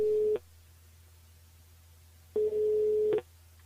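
Telephone line tone during a call to a listener on a French live radio show, heard as two steady electronic beeps separated by a short silence, clear and close, with no talking.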